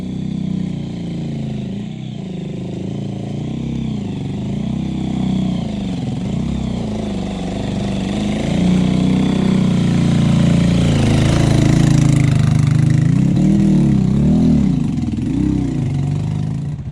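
Motorcycle engine running steadily while riding through hilly country near Minca in Colombia's Sierra Nevada, a continuous mid-pitched drone with gentle rises and falls in revs that grows louder toward the end.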